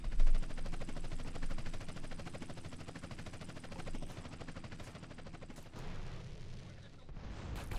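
Rapid, dense bursts of gunfire from Grand Theft Auto: San Andreas rattle on for several seconds at steady loudness, briefly thinning near the end.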